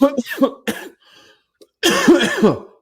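A burst of harsh coughing and throat clearing close by, after a few short vocal sounds and a brief pause.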